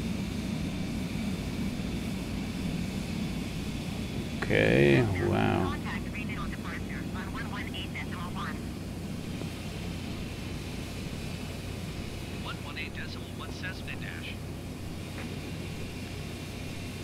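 An airplane drones steadily on autopilot in Microsoft Flight Simulator 2020, a constant engine hum beneath the game sound, while someone briefly speaks over it and reacts.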